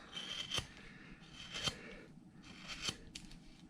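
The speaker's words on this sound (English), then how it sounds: "I'm going to get a number 5 gouge, pretty good size, and I'm going to work over to where my arm is" A number 5 gouge carving a bandsaw-cut wooden cowboy figure, giving soft scraping, rasping strokes in a loose rhythm of about four cuts, close and fairly quiet with no talking.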